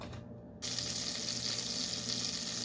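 Two tablespoons of butter melting in a pan for Mediterranean rice, a steady close hissing sizzle that starts abruptly and holds evenly.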